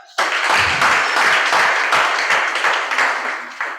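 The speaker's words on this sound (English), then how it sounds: "I thought you would clap that." Audience applause at a university law society's Lawyers' Day gathering: a dense, steady wash of many hands clapping that starts abruptly and holds fairly loud, easing slightly toward the end.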